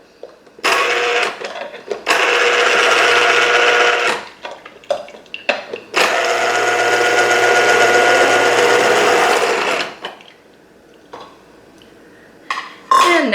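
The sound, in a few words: Cuisinart citrus juicer motor rotating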